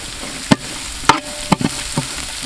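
Chopped carrots tossed into a frying pan for a chicken honey alfaham dish are stirred with a few distinct scraping clatters of the spoon over a soft sizzle.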